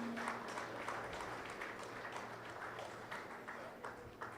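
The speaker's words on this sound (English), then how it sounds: "A big round of applause for an extremely esteemed panelist for an insightful" A conference audience gives a panelist a round of applause, a faint, steady patter of clapping hands throughout.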